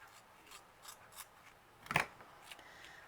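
Scissors snip the fur on a teddy bear's snout, a few soft close cuts with one sharper snip in the middle, quiet and alone.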